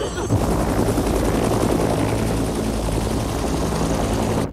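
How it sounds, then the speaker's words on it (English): Helicopters roar overhead during a 1980s Philippine uprising, a loud, dense rotor and engine drone that fills the scene steadily, then cuts off abruptly at the end. "Where did the helicopters come from?"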